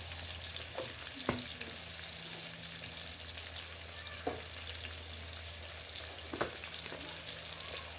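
Tomato and onion pieces with ginger garlic paste fried in a pan for sambar: a low, steady oil sizzle with a few soft stirring clicks, faint and close, with no talking.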